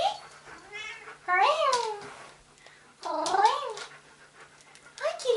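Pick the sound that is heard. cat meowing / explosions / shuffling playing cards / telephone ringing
cat meowing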